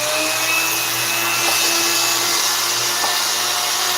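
A Dremel rotary tool polishing guitar frets gives a steady, high whirring drone that runs unbroken and close throughout, with no talking.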